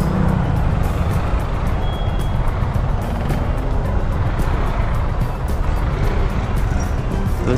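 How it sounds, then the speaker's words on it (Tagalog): Dense Manila street traffic rumbles close and steady, engines idling and moving in a continuous wash, with a vehicle's faint high reversing beeper repeating intermittently above the noise. "Pinabutan na tayo ng traffic."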